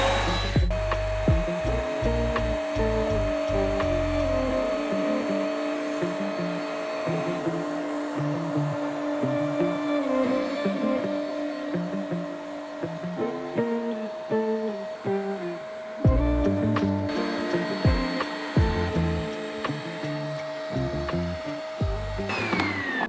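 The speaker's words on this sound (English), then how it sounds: "I'm gonna be spraying with this button here. It sprays the couch" An upholstery cleaner sprays a couch with a steady motor whine and hiss, broken by rhythmic scrubbing, scraping passes and a few brief stops, close and fairly loud with no talking.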